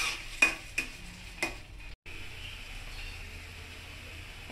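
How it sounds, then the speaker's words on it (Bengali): Chopped onions browning in a pan while being stirred, quiet steady sizzle punctuated by a few sharp clinks and scrapes of a spoon against the pan, close up, with no talking. "পেঁয়াজগুলোকে হালকা ব্রাউন কালার করে নিচ্ছি।"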